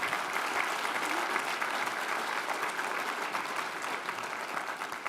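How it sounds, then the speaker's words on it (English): Audience at a World War II history conference applauds its panel, an even wash of many hands clapping at moderate distance, steady throughout with no talk over it. "a round of applause for our panel,"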